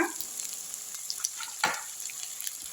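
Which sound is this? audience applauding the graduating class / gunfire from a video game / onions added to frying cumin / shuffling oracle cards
onions added to frying cumin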